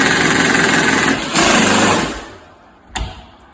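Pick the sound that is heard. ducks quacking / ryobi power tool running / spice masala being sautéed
ryobi power tool running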